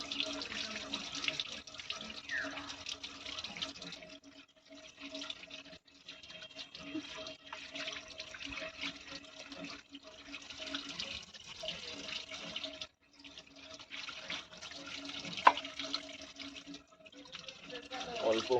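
A kitchen tap runs steadily while a small portion of meat is washed in a sink, with a continuous close splashing stream that briefly cuts off a few times before resuming.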